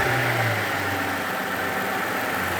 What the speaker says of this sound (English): Let's start this thing up.